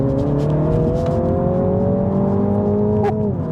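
A 2021 Mini JCW GP's engine pulls hard under acceleration on a twisty road, a loud steady rising drone heard from inside the cabin with a brief shift near the end, no talk.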